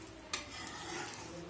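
Rava uttapam cooks on a hot pan with a soft, steady sizzle, faint and close, with a single light tap of a utensil near the start.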